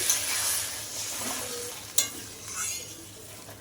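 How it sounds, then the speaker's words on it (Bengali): Spice paste frying in a pan for a rohu-style fish curry, a steady broad sizzle with stirring scrapes and one sharp clink near the middle, water about to be added; no talking. "জল দিয়ে দিচ্ছি আর হয়ে গেছে মশলাটা কষানো"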